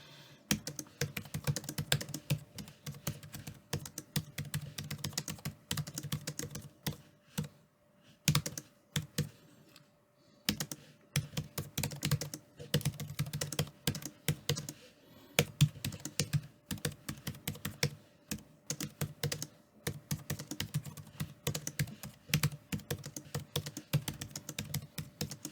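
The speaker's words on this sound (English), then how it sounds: "Try to type something." Keys clatter steadily on a Samsung Smart Keyboard Trio 500, close and crisp, in bursts of rapid typing broken by a few short pauses.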